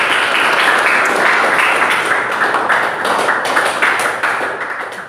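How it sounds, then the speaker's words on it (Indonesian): A classroom of students claps for a classmate in a loud, steady burst of dense applause that holds for about five seconds and then tapers off. "tepuk tangan buat Tegar ya"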